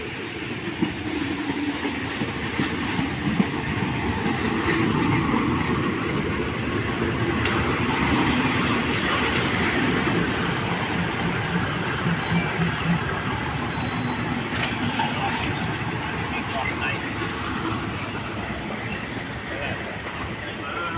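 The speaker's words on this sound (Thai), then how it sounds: "มาแล้วครับ ผมรถไฟมาแล้ว" A train pulls into a station in Thailand with a steady rumble and clatter of wheels, brakes squealing faintly above, loud and close, with occasional voices in the background.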